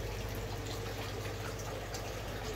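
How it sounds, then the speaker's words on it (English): Pump pushing water out into a garden pond beside a DIY moving bed filter, a steady gushing, bubbling flow with a low motor hum underneath, continuous and close. "this will then pump out into the pond"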